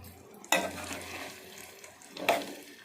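Chicken frying in hot oil for a pickle sizzles steadily, with two sharp stirring scrapes of a ladle through the pieces.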